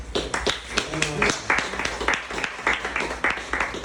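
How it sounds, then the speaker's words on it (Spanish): Congregation clapping during a Spanish-language church service, heard as rhythmic bursts of hands under a prominent voice that keeps talking over the applause. "Damos un aplauso a Él."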